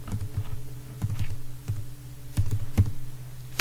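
Code is being typed on a computer keyboard: irregular bursts of close key clicks and taps, some quick runs and a few heavier strokes, with no talking.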